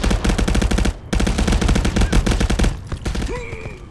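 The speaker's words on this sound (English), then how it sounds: "And the shots across the park" Rapid automatic gunfire and overlapping shots in the VR shooter Contractors during a competitive team match, dense and loud for about a second, a brief break, then sustained bursts that thin out toward the end.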